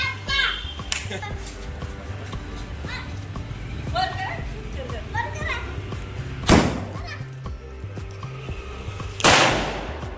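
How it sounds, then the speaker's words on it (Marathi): Two sharp firecracker bangs go off a few seconds apart at midnight on New Year's Eve, loud and close, over children chattering and playing in the background. "वाजले रात्रीचे बारा आणि सगळीकडे फटाके फुटले"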